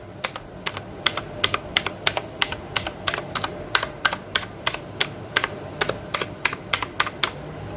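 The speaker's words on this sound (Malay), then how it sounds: "Ni aku ambil blue switch mechanical keyboard." Sharp clicky keystrokes from a Leaven K550 blue-switch mechanical keyboard, typed close by in a steady, brisk rhythm of a couple of dozen presses, each a bright click over a quiet background.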